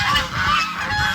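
A goose honks loudly and close on a farm, a continuous rough nasal call filling the short moment with no pause.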